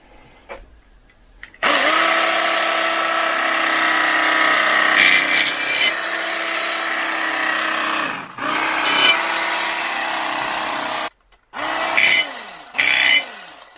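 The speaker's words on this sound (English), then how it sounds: "So I'm going to slice some ham here." A BLACK+DECKER 9-inch electric carving knife slices through ham, its steady motor buzz running in long stretches with brief pauses and restarts, close and loud, no voices.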